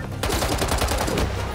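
Rapid automatic gunfire in the video game Marvel's Spider-Man 2, a dense, loud burst of closely spaced shots that runs the whole moment without pause.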